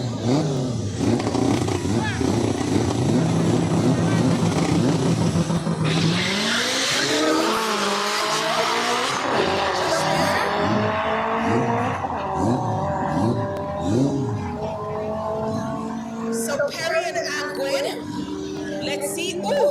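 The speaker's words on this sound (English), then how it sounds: "Clash of the Audi and the Honda, are you ready for it?" An Audi and a Honda race in a drag racing final, their engines roaring and revving with repeated rising gear-change sweeps and squealing tires, loud and close, while a commentator talks over the action.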